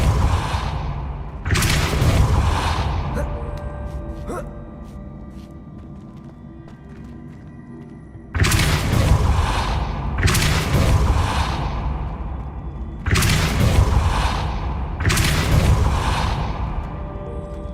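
Spell effects from Hogwarts Legacy, with Accio and Depulso cast in turn: three heavy whooshing bursts arrive in groups and boom out loudly, separated by quieter stretches of ambient game noise.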